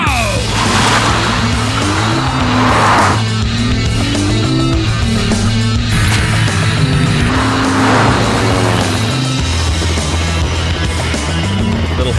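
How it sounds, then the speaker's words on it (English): Lexus GS sedan driven hard on a track, its engine droning loudly and steadily throughout as it brakes heavily, with tire noise rising and falling and faint voices underneath. "Heavy on the brakes there."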